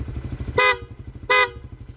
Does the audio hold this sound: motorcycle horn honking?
yes